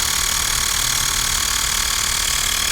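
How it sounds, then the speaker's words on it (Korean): A small Xiaomi portable air pump's motor runs close by, a steady, even buzzing hum with a faint vibration, constant and alone with no talk. "약간 모터 돌아가는 소리"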